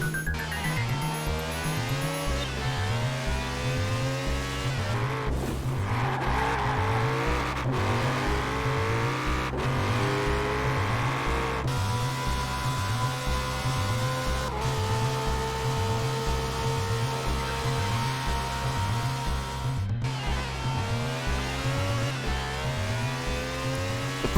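Racing video game car in Online Ranked Adventure, the S2 Road and Street class, roaring at high speed with a steady, loud engine drone, rising and falling gear shifts and occasional tire squeal throughout.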